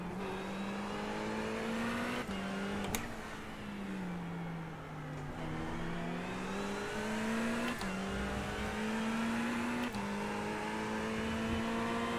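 A Ferrari GT3 race car engine in the iRacing simulator drones steadily at high revs, its pitch rising and dipping through gear changes and tight corners over several seconds.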